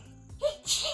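A single short, close sneeze bursts out abruptly over a quiet background.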